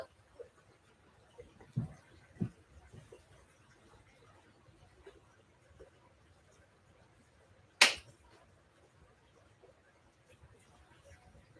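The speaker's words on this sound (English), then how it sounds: "All right, you ready for the clap?" A single sharp hand clap rings out loud and close against quiet room noise, preceded by a few softer taps.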